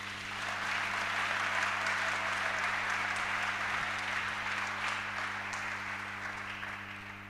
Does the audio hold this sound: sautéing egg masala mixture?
no